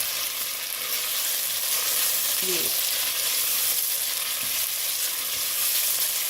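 Loud, steady sizzling of beef frying in a hot pan with ginger and garlic, with a brief stir and a short spoken word partway through.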